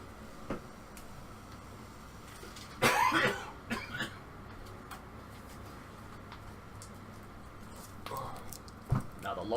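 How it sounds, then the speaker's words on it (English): A person recovering from the flu coughs during a quiet Star Trek Online session: one sharp cough burst, then a smaller one, and a few soft throat sounds later over a low background hiss. "I'm still coughing a little bit"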